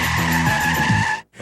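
A car's tires squeal hard as it spins a full 180 during a driver-training exercise. The loud skid lasts about a second and then cuts off abruptly.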